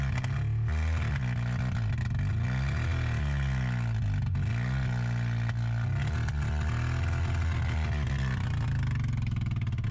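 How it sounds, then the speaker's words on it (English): An abandoned car's engine warms up, running steadily at low revs, a deep continuous rumble with slight rises and dips in pitch, close by and with no voices. "I'll warm up the engine a bit and we're good to go."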